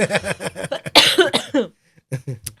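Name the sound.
cough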